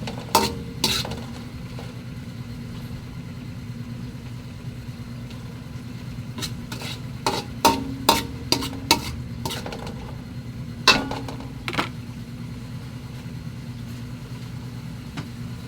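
Tomatoes being stirred into broth in a cooking pan, a low simmer under scattered sharp scrapes and clinks of a utensil against the pan, bunched in short bursts with quiet gaps.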